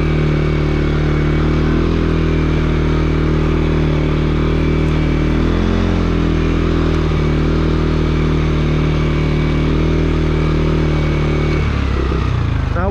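A 2021 CFMOTO CFORCE 400 ATV is ridden with independent rear suspension, its engine droning loud and close alongside rattling clatter, with a brief shift in pitch near the end.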